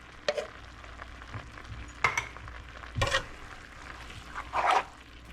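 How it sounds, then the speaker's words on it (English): Rice cooking in pan juices on a stovetop, a soft low sizzle with several sharp scraping stirs and clinks of a utensil against the pan at irregular intervals. "We're gonna let this simmer and let the rice cook in the juices in here."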